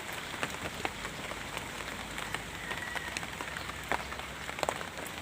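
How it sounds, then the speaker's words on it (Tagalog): Steady rain patters under a tree outdoors, a constant soft hiss with occasional sharper drops, fairly faint and with no voices. "Kaya lang biglang lumakas yung ulan eh."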